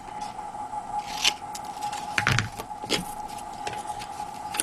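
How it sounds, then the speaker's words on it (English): Scissors cutting through craft cardstock along two crossed lines of a handmade St Nicholas event card, a few short close snips and rasping slices with brief pauses between them, fairly quiet. "Then we're just going to cut where the two lines come together and form an X."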